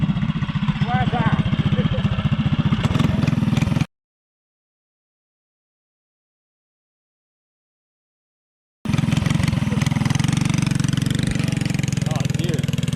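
A mini bike engine runs loud and buzzy, an uneven rasping drone that stops abruptly for several seconds of silence and then resumes just as loud, with voices talking over it.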